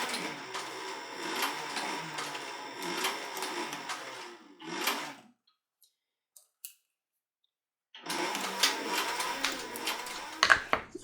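A sewing machine stitches through a leather holster in close, rapid bursts, stopping for a silent pause midway before resuming the same clattering run.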